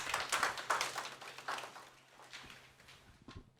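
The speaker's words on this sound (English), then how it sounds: "Please, a round of applause." Scattered, fairly quiet clapping from a small roundtable audience, a few irregular bursts of hand claps that thin out and fade toward the end.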